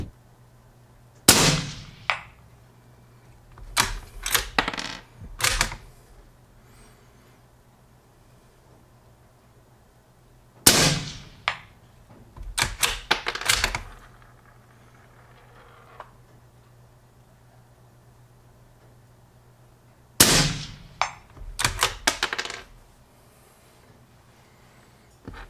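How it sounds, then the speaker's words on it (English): Rifle shots from a 17 WSM with a 20-inch barrel firing 20-grain projectiles: three groups of sharp, loud cracks spaced about ten seconds apart, each followed by a rapid cluster of clicks and echoing reports. "Next is the 20-inch 17 WSM shooting a 20-grain projectile."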